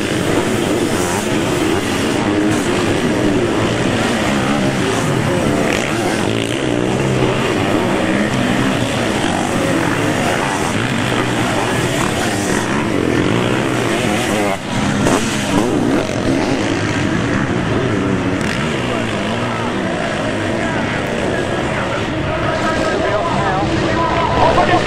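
Sidecar motocross outfits at the Bourg Bruche world championship round roar continuously in a dense, loud wall of engine noise, with a voice talking over it.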